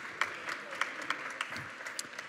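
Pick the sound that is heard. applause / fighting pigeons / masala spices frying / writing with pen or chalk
applause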